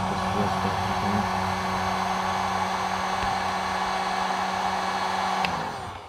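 A heat gun blows a steady, loud whooshing hiss onto thick tint film on a Lexus GS400 headlight, running continuously with a faint hum beneath before easing off near the end.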